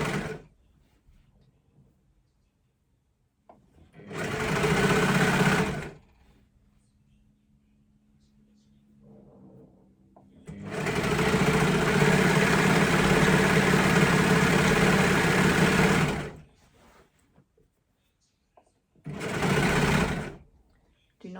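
An overlocker stitches knit fabric in three bursts: a short run, a long steady run of several seconds, then another short run, each loud, close and whirring, with near silence between them.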